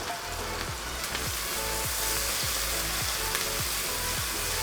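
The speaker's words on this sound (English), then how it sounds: "I am adding in fenugreek and cumin seeds and followed by chopped onions. Sauté them." Fenugreek, cumin seeds and chopped onions sautéing in oil, a constant loud sizzling hiss with a low rhythmic thumping repeating beneath it, close and unbroken.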